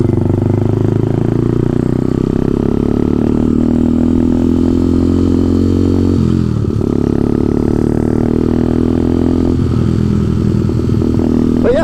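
An Ice Bear motorcycle engine runs steadily and loud throughout, with a brief dip near the middle and a slight rise toward the end, no talking.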